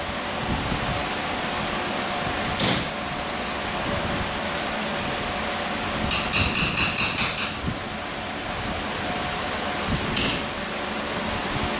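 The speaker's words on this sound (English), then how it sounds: "Tighten them down with the hammer." Hammer taps on a boot clamp of a Subaru BRZ rear axle: a single sharp tap, then a quick rapid cluster of about six strikes, then one more tap, over a steady background hum.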